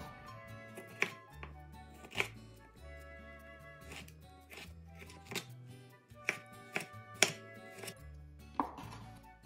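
A knife works around a kiwi, giving a series of soft, irregular cutting taps and scrapes on a board, close and fairly quiet, with no talk.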